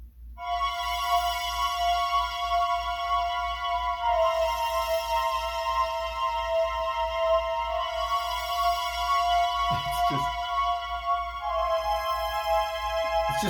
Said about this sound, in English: There's another synth I'll be using that sounds like this.